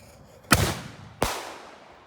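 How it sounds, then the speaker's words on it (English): Bottle rocket fireworks on New Year's Eve: two sharp bursts about 0.7 seconds apart, each a sudden loud crack trailing into a short hissing rush, fairly close, with no talking. "I got a bottle rocket."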